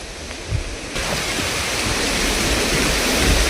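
Jaggery water pours into a ghana jeevamrutha mix of cow dung and horse gram flour, a steady rushing splash that starts after a short pause and runs on evenly, fairly loud and close.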